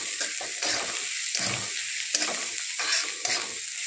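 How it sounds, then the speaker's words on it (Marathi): Green chili paste frying and being stirred in a hot pan with salt, a steady sizzle broken by repeated scraping stirs, close and fairly loud with no talking. "याला छान परतून घेऊया 2 मिनिटं।"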